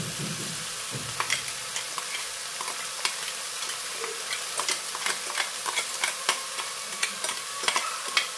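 Crushed coconut is stirred into chaya spinach frying in a pan, with a steady hissing sizzle under repeated scraping clicks of a spoon against the pan, close and continuous.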